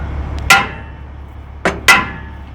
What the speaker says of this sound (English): these things you usually got to hit them with a shop hammer or even a sledgehammer sometimes